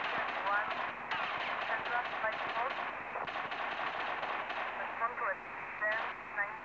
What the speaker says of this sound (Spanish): Vamos a ver si le puedo disparar desde aquí.